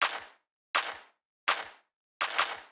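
Two clap samples layered together in a hip-hop beat strike four times in a steady rhythm, each hit a full, noisy burst with a lingering tail and a doubled attack, with no speech.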